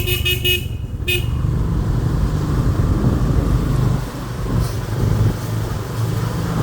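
A motorcycle engine rumbles steadily up close, a continuous low drone with a brief horn-like toot near the start.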